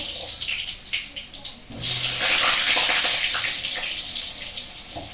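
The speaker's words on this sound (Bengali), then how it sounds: "তেলটা গরম হয়ে গেছে আলু কাটা ভেজে নেবো" Cut potatoes drop into hot oil for frying, setting off a loud, steady sizzling hiss that swells after a softer start and stays strong throughout; a voice speaks faintly underneath.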